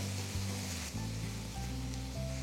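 Finely chopped tomatoes sizzling in a pan for spot idli masala, a steady hissing fry heard up close, with a low background hum.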